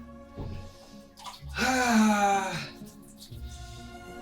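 Ice-cold water from a bucket splashing into a bathtub, a loud sustained rush peaking mid-clip, with a person's pained vocal sounds mixed in before and during the pour.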